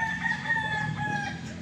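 A gamecock of the Raptor Sweater line at a game farm, in stormy weather, gives a single close, loud crow that holds steady for a moment before trailing off.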